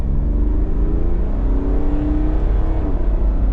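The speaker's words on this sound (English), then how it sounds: "So I'll give you a bit of an acceleration up to the 60." An Ineos Grenadier accelerates hard up to 60 mph, its engine note loud and close, rising steadily through the whole stretch with no pauses and no voices.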